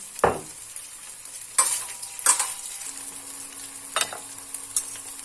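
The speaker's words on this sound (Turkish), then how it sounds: "Bol yağla iyice kavuracağız arkadaşlar sosislerimizi." Sausages frying in plenty of oil for a kumru sandwich: a soft, steady sizzle broken by several sharp utensil clinks and pan knocks, close and untalked-over.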